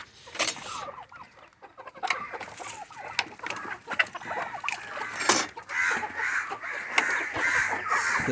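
Chickens cluck and squawk in overlapping bursts, fairly close, with sharp calls popping out over a busy flock.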